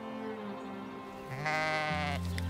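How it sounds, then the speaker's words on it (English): Sheep on a hill farm bleat in a long wavering call that rises louder partway through, nearby and clear over a low steady background hum, with no voices. "looking after a flock of sheep"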